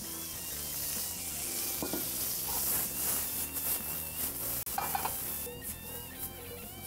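Food sizzles in a hot wok with a drizzle of oil, a steady close hiss under music with occasional stirring scrapes, no voice heard.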